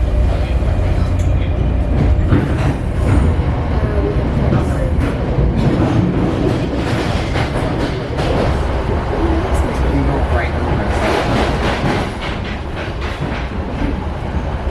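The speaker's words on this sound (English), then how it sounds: "They're electrical multiple units. There's 3 cars today" A three-car electric multiple unit commuter train rumbles past close by, with a loud steady roar and rhythmic clickety-clack of wheels on rail joints throughout while voices talk over it.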